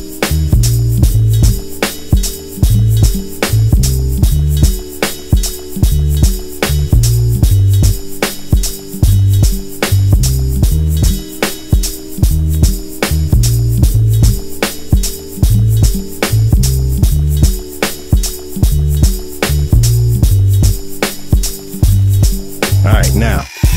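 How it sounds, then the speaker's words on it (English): Vinyl static sample played from an Apisonic Speedrum drum sampler, a loud steady crackle and hiss layered over a repeating low thumping pattern that runs the whole length. "A little bit of vinyl static in Bank B."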